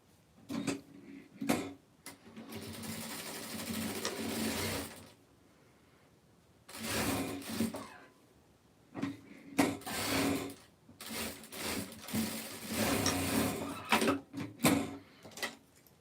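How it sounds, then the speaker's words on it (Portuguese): Sewing machine stitching fabric closed, running in several bursts of rapid mechanical whirring separated by short quiet gaps, close and moderately loud. "nós vamos costurar, fechando isso aqui"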